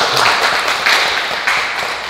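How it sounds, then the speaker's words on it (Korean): Audience clapping at a film festival screening talk, a steady wash of applause that stays fairly loud and even across the short stretch with no voices over it. "이제 여기요 박수 한 번 쳐주세요."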